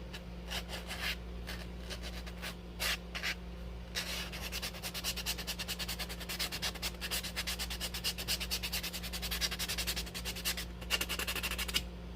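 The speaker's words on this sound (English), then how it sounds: "So now we are going to buff it." Steady rhythmic rubbing and scraping of a nail buffer against a fingernail, close up, with quick back-and-forth strokes and a low electrical hum underneath.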